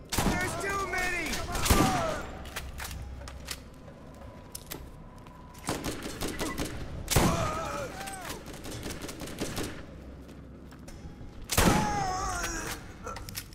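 Gunfire in the video game Borderlands comes in three sharp bursts several seconds apart, with game sounds and voices in the quieter stretches between.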